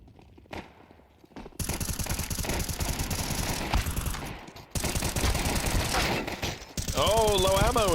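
A full magazine is dumped from M4A1-S rifles in a professional CS2 match, rapid sustained shots in long bursts with brief pauses, under an excited commentator's voice.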